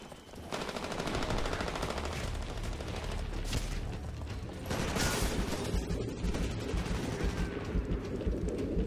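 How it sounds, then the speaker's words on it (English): Dense, sustained automatic gunfire rattles in the Titanfall video game, a continuous loud burst of rapid shots with battle noise, no speech over it. "Somebody was shooting me from over here"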